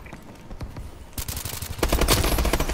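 Call of Duty Advanced Warfare gunfire from the Reckoning DLC crackles in rapid bursts, growing louder and denser toward the end as sustained automatic fire fills the scene.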